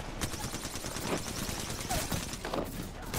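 Gunfire in the Apex Legends battle royale shooter: rapid, overlapping shots in a steady busy stream, moderately loud, with a few sharper bursts standing out.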